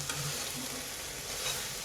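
Soya vegetable pulao ingredients sizzle in oil while being stirred, a steady broadband frying hiss with soft scraping strokes throughout, close and even, no voices.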